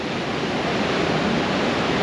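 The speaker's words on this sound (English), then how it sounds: "waves that are crashing in here at Ogmore by Sea" Sea waves crash onto the shore at Ogmore by Sea in Wales, a loud, continuous roar of surf with no distinct breaks between waves and no voices.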